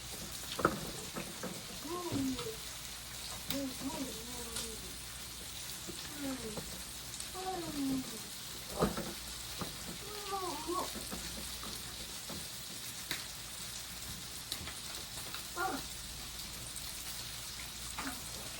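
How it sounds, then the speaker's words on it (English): Heavy cream goes into a sizzling pan of Cajun shrimp and fish, giving a soft, steady frying hiss with scattered pops, while a voice talks over it at intervals. "I can go ahead and add in my heavy cream"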